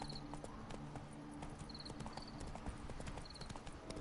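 A horse in The Witcher 3 clip-clops along in a steady trotting rhythm of hoof strikes, moderately close, over a faint background bed, with no talking.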